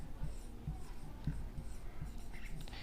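During a class 10 maths lesson on circles, a pen or chalk scratches out short, quiet strokes on paper or a board, with a few soft taps between them.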